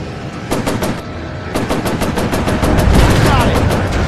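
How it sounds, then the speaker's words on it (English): An enemy plane fires its machine guns in the VR air-combat game Warplanes over the Pacific, producing loud, close rapid bursts of gunfire in quick repeated volleys with engine noise underneath. "He's firing at me!"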